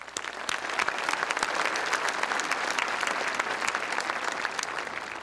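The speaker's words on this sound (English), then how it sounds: "Let's give them a round of applause" Dense, steady applause from a large graduation audience at a 2013 South St. Paul high school ceremony, sustained and fairly distant throughout with no voices over it.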